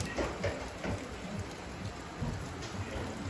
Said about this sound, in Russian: Пройдет дождь,